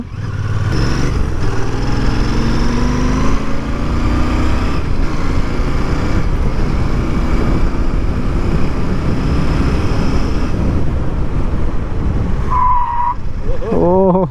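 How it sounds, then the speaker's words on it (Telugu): A Royal Enfield Bear 650 motorcycle with dual-channel ABS brakes hard and skids, a loud sustained roar of engine and tire scrub running throughout, ending in a short sharp squeal. "బ్రేక్స్ చూడండి మీకు, మొత్తం స్కిడ్."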